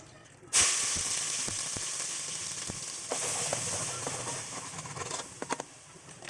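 Bay leaf, asafoetida and a ground spice paste land in hot oil and burst into a sudden loud sizzle, which holds as a steady hiss broken by crackles and the knock of a stirring spoon, close to the pan.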